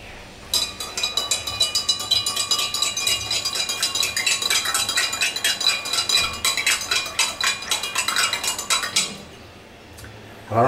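A spoon clinks rapidly and steadily against the sides of a jug, stirring sugar into a sherbet, bright metallic taps close and continuous for about nine seconds before stopping.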